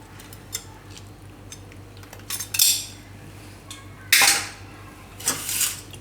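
A spoon clinks and scrapes against a bowl while mixing ingredients for raw banana and fenugreek fritters, light taps followed by a few louder bursts of scraping, close by in a quiet kitchen.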